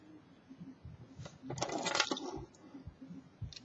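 Metal handcuffs being opened, heard as a close burst of clinking and ratcheting metal lasting about a second, set among faint handling clicks and rustle, with no talk.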